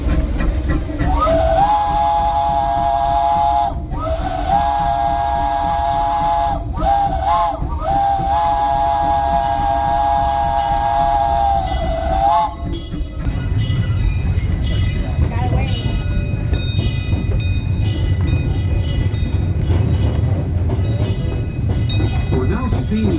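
Disneyland Railroad steam locomotive sounds a loud, sustained whistle in several long blasts, then chuffs and hisses steadily as it runs, with a narrator's voice over the train.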